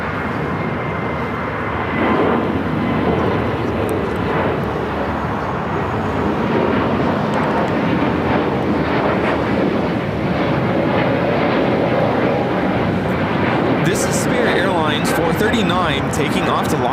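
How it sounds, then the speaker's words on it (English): An Airbus A321neo jet takes off from LAX toward Las Vegas, a sustained loud engine roar with steady broadband rumble, overlaid by people talking nearby. "Taking off to Las Vegas on the A321neo"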